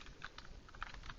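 Quick, soft clicking of keys being typed on a computer keyboard in a spreadsheet, a close, light burst of keystrokes.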